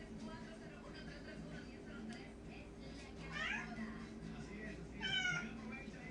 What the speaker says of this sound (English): don't believe their meows if you can hear them